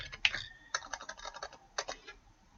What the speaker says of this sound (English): go into the middle and start typing again